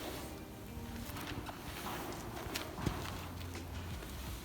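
Horse hooves clop on the ground while the horse is being groomed, with scattered, irregular steps at a moderate level over a steady background.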